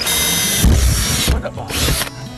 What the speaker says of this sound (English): we'll take our drill again, and we'll make a pilot hole so that we can get our saber saw in there.